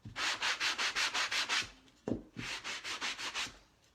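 Sanding block rubbed by hand over painted wood, giving a rough, rustic finish: close, loud rhythmic scraping in two runs of quick strokes, about eight or nine each, split by a short pause and a few knocks.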